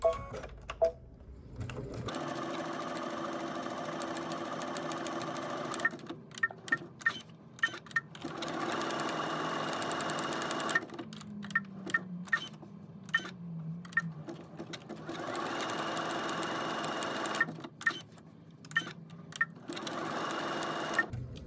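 A sewing machine stitches fabric for a Christmas gift in several bursts of rapid, steady whirring, separated by short pauses and light clicks as the fabric is turned, fairly close and moderately quiet.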